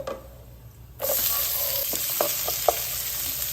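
Sliced onion drops into hot oil and begins to fry for mint rice, a sudden broadband sizzle starting about a second in and holding steady, with a few short scraping clicks of stirring in the pan.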